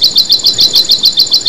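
A man imitates a trembling bird chirp with his voice, a rapid series of about ten shrill, regular tweets close and loud, with no other talk, in a Hindi motion comic.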